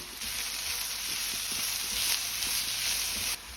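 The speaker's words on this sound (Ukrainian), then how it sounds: "Цибуля підсмажилась, тепер сюди додаю моркву. І також її тут трохи підсмажую." Carrot and onion frying together in a pan, a steady bright sizzle that holds evenly for a few seconds with faint stirring clicks underneath, close and alone.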